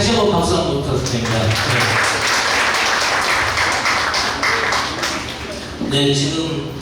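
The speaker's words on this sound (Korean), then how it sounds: "다시 한번 박수 한번 부탁드립니다" Audience applause at a regional balanced-development information cooperation forum in Gwangju and Jeolla, following a song performance; steady, dense clapping filling the hall for several seconds, fading slightly before a voice returns near the end.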